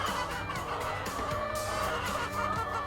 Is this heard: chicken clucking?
yes